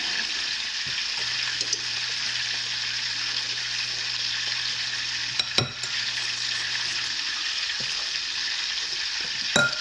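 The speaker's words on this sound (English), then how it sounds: "I have 3/4 cup of butter and I'm browning it. So that's what that noise has been" Continuous loud sizzling and crackling of 3/4 cup of butter browning in a hot pan, with occasional clinks of a utensil against the pan.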